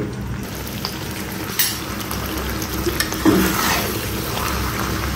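Meat with peanuts frying in oil in a pan, a steady close sizzle with a few soft stirring knocks.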